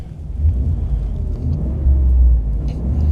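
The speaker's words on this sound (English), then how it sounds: "Let's hear that V8 before we start." A 2025 Ford F-150 Tremor's 5.0-litre Coyote V8 rumbles steadily at idle, deep and close, with slight swells in loudness and no voices.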